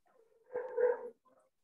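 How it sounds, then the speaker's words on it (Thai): House dogs squabbling let out a single short, muffled growling bark that lasts about half a second, slightly distant, followed by a faint yip. "ได้ยินเสียงหมาเห่าไหมครับหมาบ้านผมทะเลาะกัน"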